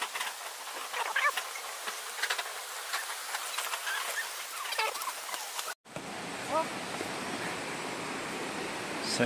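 Taytay Falls in Majayjay, Laguna pours as a constant hiss of rushing water, softer at first with faint voices, then a louder, fuller roar after an abrupt cut.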